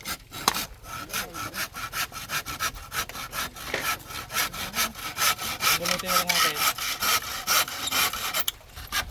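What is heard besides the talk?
hand saw cutting wood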